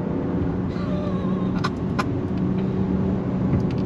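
A 2022 Genesis G80 luxury sport sedan accelerating hard at full throttle: a loud, close, continuous engine roar whose tone climbs steadily for about four seconds, with a faint road rumble underneath.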